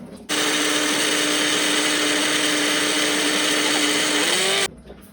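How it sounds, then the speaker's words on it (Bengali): A kitchen blender whirs loudly and steadily for about four seconds, blending a chilled drink of palm fruit and tender coconut, with a short motor pitch rise near the end before it cuts off abruptly. "চলেন এবার এটা ব্লেন্ডার করে লই যাই"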